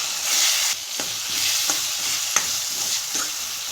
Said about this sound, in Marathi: आणि पूर्ण जे साहित्य आहे ते मिक्स करून घ्यायचे आपल्याला।